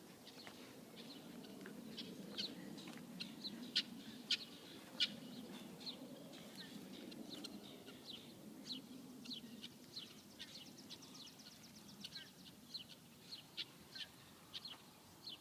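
Birds sing outdoors during a walk, a series of faint, quick chirps and short calls scattered over a quiet low rumble of open air, distant and soft throughout.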